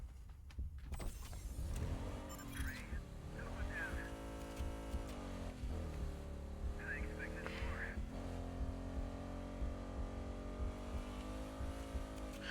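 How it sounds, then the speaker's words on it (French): Car in the battle royale video game Fate Trigger, a rising and falling engine whine with revving sweeps and gear-like pitch climbs, loud and close, while someone talks now and then. "Oh, une voiture, nice."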